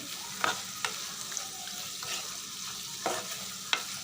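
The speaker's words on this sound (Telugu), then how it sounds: "సాల్ట్ ఇలా వేసుకున్న తర్వాత తిప్పేసుకోవాలి" Bottle gourd curry being stirred in a pan after salt goes in, with a faint sizzle of frying under a few sharp scrapes and taps of the spoon against the pan.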